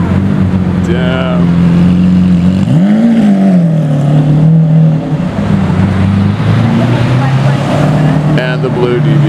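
A loud, deep Lamborghini Aventador SV engine with stock Lamborghini race exhaust rumbles steadily close by, with one sharp rev that rises and falls, and voices can be heard under the roar.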